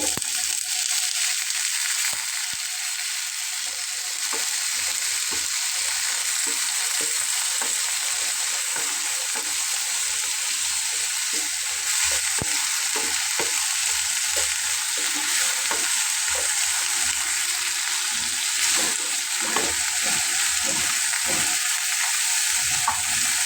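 Potatoes frying in a pan for a traditional Bengali okra and poppy-seed dish, a steady close sizzle running throughout with frequent scraping and stirring clicks, no talking.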